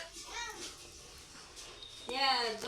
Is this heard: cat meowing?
yes